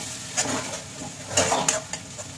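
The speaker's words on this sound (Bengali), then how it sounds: "খানিকক্ষণ ধরে নাড়তে থাকি। তো চলো ভাজা ভাজা করতে থাকি ততক্ষণ।" Raw Basanti pulao rice, seasoned with green chilli paste, is stirred and dry-fried in a pan, giving a soft hiss with a few scraping strokes of a utensil against the metal at close range.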